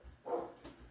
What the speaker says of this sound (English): That's a dog barking when he's scared.